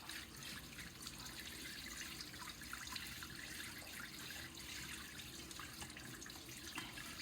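Tap water runs into a sink as pork intestines are washed, a faint but steady rushing stream with light splashing that continues without a break.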